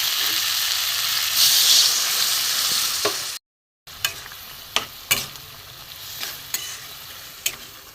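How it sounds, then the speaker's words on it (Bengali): Boiled chana dal is stirred with spices in a frying pan, a steady sizzle and hiss running under sharp, intermittent scrapes of a spoon against the pan, with a brief drop to silence partway through. "ছোলার ডালটা দিয়ে ভালো করে নেড়ে নিতে হবে মশলা দিয়ে"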